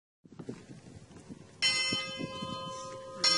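A bell rung at Hinode Park in Furano, Hokkaido, amid lavender fields, sounding a bright ringing strike that sustains, then a second strike near the end, over faint background chatter and outdoor noise.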